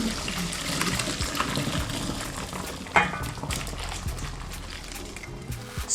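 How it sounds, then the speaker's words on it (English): Cooked fettuccine being drained in a kitchen, water pouring and splashing steadily for several seconds, fairly loud and close, with a brief louder splash near the middle. "Drain the pasta and save the pasta water."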